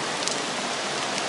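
Rain falls steadily in Singapore, a dense, even hiss of drops on surfaces, close and continuous with no talk.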